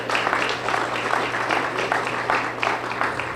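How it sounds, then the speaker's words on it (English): People at a Wallace-Burson schoolhouse reunion give Gloria a round of applause, a small group's moderately loud clapping in uneven bursts over a steady low hum. "let's give a nice round of applause to Gloria."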